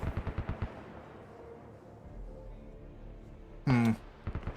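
In Arma 3, rapid bursts of distant machine-gun fire in a quick rhythmic series open the scene. Later comes a louder, closer, sustained burst, then a few more quick shots.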